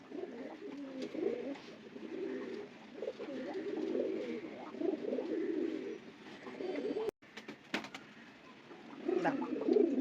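Domestic pigeons coo repeatedly in soft, low, rolling phrases close by, with a brief sharp knock partway through before the cooing resumes.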